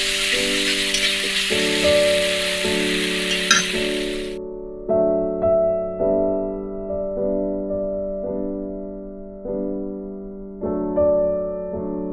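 Rui fish in poppy seed paste sizzles loudly in a pan as it is sautéed with a splash of water for about four seconds. The sizzle then cuts off, and steady tonal music carries on alone.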